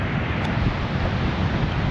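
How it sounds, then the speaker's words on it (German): Steady wind gusting across the northwest tip of Fuerteventura near the Faro El Tostón lighthouse, a continuous broadband rush buffeting the microphone at constant strength with no pauses. "Aber es geht ein angenehmer Wind."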